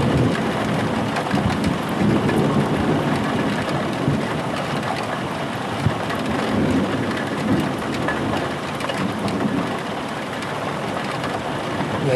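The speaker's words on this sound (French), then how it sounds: "Attendez, le tonnerre il est non-stop." A very electric summer thunderstorm in Sallanches in June 2016: heavy, steady rain pours while thunder rumbles almost without pause, loud and enveloping.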